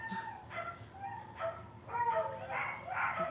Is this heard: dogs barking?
yes